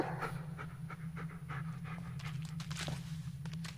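Dog panting in the Blair Witch video game, quick rhythmic breaths repeating steadily and close by over a low constant hum, with no talking.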